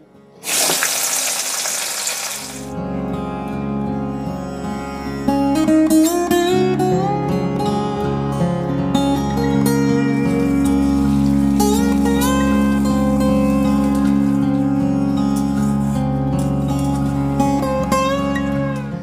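Chopped onions hit hot oil with cinnamon, cardamom and cloves in a loud hissing burst, then frying simmers on beneath prominent melodic background music.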